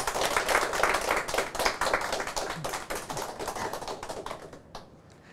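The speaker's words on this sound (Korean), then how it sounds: "박수로 맞아 주십시오" An audience claps steadily to welcome a guest onto the stage at a church talk concert, with dense, even applause that holds for several seconds and then tapers off near the end.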